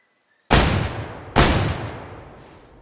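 Two sharp hunting-rifle gunshots ring out in the hunting game Way of the Hunter, the second about a second after the first, each a loud crack that decays slowly into a long echoing tail.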